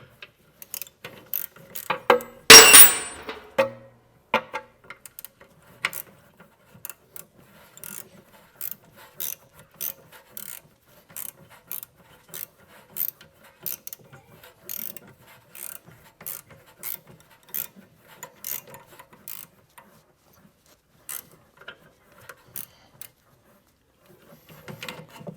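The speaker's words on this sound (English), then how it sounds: "we're going to take our spanner and a ratchet, and we're going to tighten these screws again." A ratchet and spanner tighten screws during a brake service, giving a long run of crisp, evenly spaced pawl clicks after a louder metallic clatter near the start, close and with no voices.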